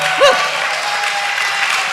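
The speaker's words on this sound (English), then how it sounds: "give Mark another round of applause" A studio audience at a recovery talk show applauds a guest, a brief, steady patter of clapping with a short tonal blip near the start.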